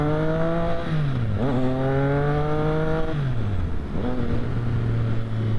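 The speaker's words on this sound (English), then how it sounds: "just sit there and play with the exhaust" A Triumph Street Triple R motorcycle exhaust revs up and drops back several times, close and loud, with its engine note rising and falling steadily; no one speaks.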